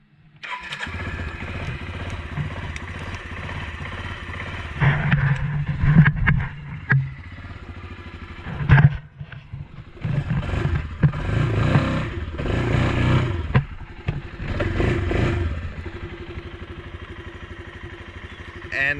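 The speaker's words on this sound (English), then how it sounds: "let's start it up so you can hear what it sounds like" A 2019 Suzuki KingQuad 400 ASI ATV engine cranks and catches, then runs at a rough, uneven idle with a few throttle blips and some mechanical clatter, close and moderately loud.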